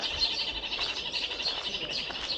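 A pair of parrots at the Otorohanga Kiwi House in New Zealand make a busy run of high chirps and calls, steady and fairly close, with no one speaking over them.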